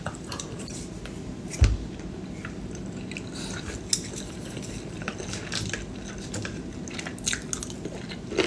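Food is bitten and chewed up close, with crunchy bites and soft wet mouth sounds repeating steadily over several seconds, without talk.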